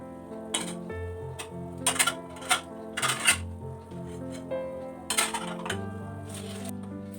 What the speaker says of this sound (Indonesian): ini aku mau rapiin cucian piring aku yang udah kering ya. Ini aku mau masukin ke rak piring.